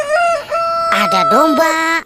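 A toy rooster gives a single drawn-out electronic cock-a-doodle-doo crow lasting about two seconds, loud and close, with a person speaking briefly over it.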